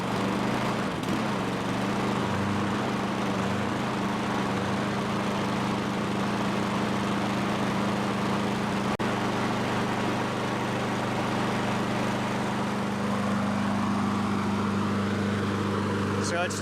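A Honda lawn mower engine runs steadily after being started during a tune-up, a loud, continuous drone with a constant low hum that holds for the whole stretch. A voice talks over it.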